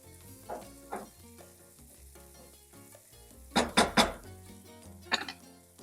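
Onions sizzle in a frying pan for a spicy sausage pasta, a steady low crackle broken by a few sharp clinks and scrapes of a utensil stirring against the pan; no one speaks.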